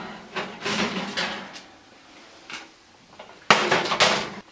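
Metal pan clatters and scrapes as a pan of fish comes out of an oven, several bright bangs and clanks at the start, a quieter pause, then a loud closing clunk near the end, close by.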